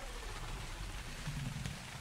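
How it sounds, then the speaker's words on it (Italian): Steady rain falling in the video game ARK: Survival Evolved, a soft continuous hiss of rainfall with a low rumble underneath, quiet and unbroken. "Quando sto addomesticando, piove sempre."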